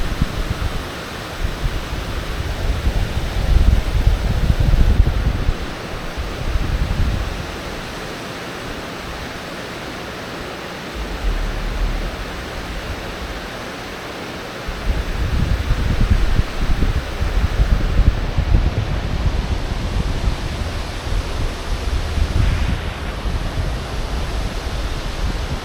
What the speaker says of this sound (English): So right now this is still open, so you have here some water going through it.